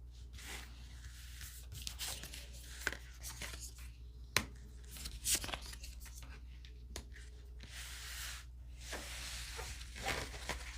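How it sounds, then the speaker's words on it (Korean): Tarot cards rustle and slide as they are shuffled and drawn close by, with soft irregular flicks, taps and rubbing sounds in a quiet room. "3번 분의 조언 카드 뽑아볼게요."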